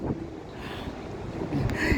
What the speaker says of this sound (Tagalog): Pag dito ka naman sa labas, saka mo mapapansin na mahalakas yung hangin tulad nito